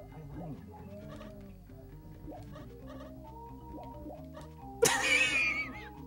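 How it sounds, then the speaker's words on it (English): A cow fart sound effect from the Super Famicom and Game Boy game Hammerin' Harry (Daiku no Gen-san) plays as a single loud, brief burst near the end, over game music. "That was a cow fart."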